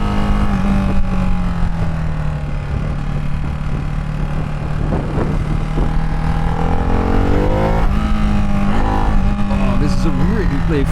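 A Ducati Hypermotard 698 motorcycle engine drones steadily while riding, its pitch shifting through gear changes and throttle blips, loud and close with heavy wind noise and a rider's voice over it.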